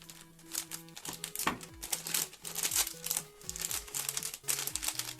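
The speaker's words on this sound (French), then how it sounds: "Et tout de suite, on va ouvrir le dernier sachet." Plastic blind bag holding a Transformers 30th anniversary figure crinkling and tearing open, a steady run of close, crisp rustles and rips over soft background music.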